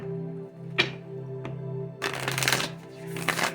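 An astrology card deck is shuffled in two distinct riffling bursts, preceded by a couple of sharp card snaps.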